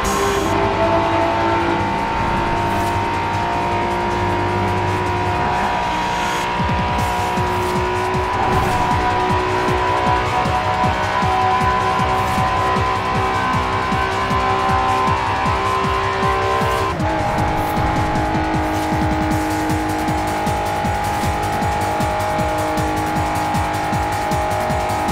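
An Acura NSX sports car accelerates hard, its engine droning loudly and continuously with rising pitch and a gear change partway through, sustained throughout with no talk.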